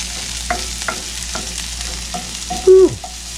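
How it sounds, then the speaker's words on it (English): Onions sautéing in a pan as a side for New York strip steak, with a steady sizzle under soft stirring scrapes and one sharp squeak of the spatula near the end. "We got to get these onions sauteed up to have with our New York strip steak."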